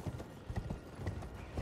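Horse hooves gallop in a video game, a quick rhythmic clip-clop of repeated hoofbeats, close and steady, with no talk over it.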